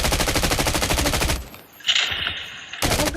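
Rapid automatic gunfire in the mobile shooter Call of Duty Mobile during a battle royale match, a loud dense burst followed by a brief lull with a higher tone, then the firing resumes abruptly.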